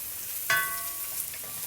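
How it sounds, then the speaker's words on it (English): Chopped garlic and young ginger sizzle in hot oil in a wok, a steady close hiss with a brief clank of a utensil near the start. "Fry until you can smell the beautiful aroma coming out from the garlic as well as the ginger"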